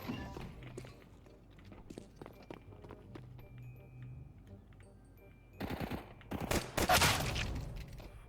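Rapid bursts of automatic gunfire and scattered shots in Counter-Strike 2, with footsteps in between, growing louder and denser toward the end, with no voices.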